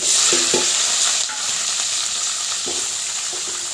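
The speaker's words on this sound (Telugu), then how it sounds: "కొంచెం ఆవాలు, కొంచెం జీలకర్ర అవి చిటపడ్డ అనేటప్పుడే మనం ఉల్లిగడ్డ, పచ్చిమిరపకాయలు, కరివేపాకు కూడా వేద్దాం" Onions, green chillies and curry leaves fry with mustard seeds and cumin in hot oil, a steady loud sizzle with a few brief clinks of stirring, alone with no talk.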